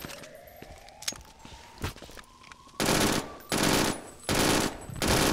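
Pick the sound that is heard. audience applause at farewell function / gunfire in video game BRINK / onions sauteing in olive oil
gunfire in video game BRINK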